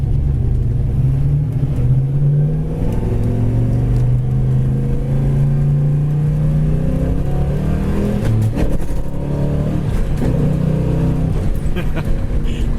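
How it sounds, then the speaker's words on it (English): A numbers-matching 1969 Chevrolet Chevelle Super Sport with a 4-speed manual drives along, its engine rumbling steadily and loudly close by with rising revs throughout, no talk over it. "numbers matching 69, Chevelle Super Sport, 4-speed, Fathom Green. Drives awesome."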